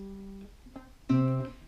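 A few plucked guitar notes of Twinkle Twinkle Little Star ring out one after another, soft and close, with a brief pause before a stronger final note sustains.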